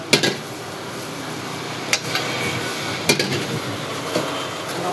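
A chef tosses and mixes noodles in a wok, metal utensils clanking against the pan in sharp, irregular hits over a constant roar from the burner.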